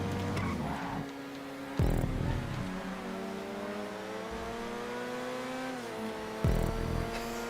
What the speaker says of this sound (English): That marvelous engine whine.